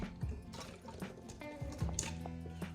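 Water drips slowly from a bottle into a potted plant's soil as an improvised vacation watering setup, a few soft, irregular drops landing close by in an otherwise quiet indoor space.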